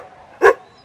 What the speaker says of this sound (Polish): będzie na nie szczekać